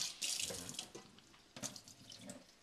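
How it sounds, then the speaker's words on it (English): Cold tap water runs into the bottom of a pan in a home kitchen while making linguine with white clam sauce, a close splashing gush in short bursts that stops and restarts. "put a little cold water at the bottom of your pan"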